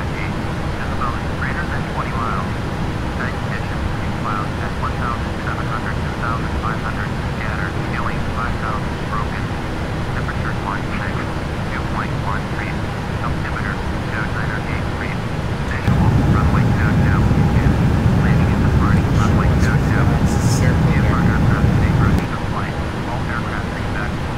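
A Boeing 777-300ER jet airliner climbs after takeoff from Dublin, its steady broadband engine roar filling the cabin and swelling louder for several seconds near the end.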